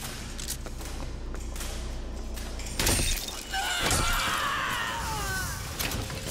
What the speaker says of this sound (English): Oh, I can't shoot through glass, okay.